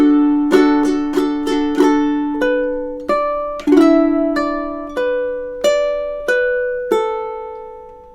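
Ukulele playing a summertime chord melody, with a quick burst of strums followed by slower single strummed chords that ring out and decay, close and alone.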